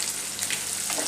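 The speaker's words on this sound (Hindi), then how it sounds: "अब इसी तेल में हम प्याज फ्राई करेंगे" Onions fry in oil left in the pan after cooking tinda, giving a steady, close hiss and sizzle with no talking.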